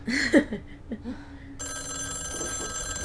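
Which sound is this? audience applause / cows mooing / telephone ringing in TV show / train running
telephone ringing in TV show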